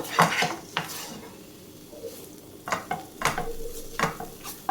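A spoon stirs sautéed onion into tomato paste in a pan for egg masala. The scraping comes in several distinct bursts over a soft background sizzle, close and moderately loud, with no talk.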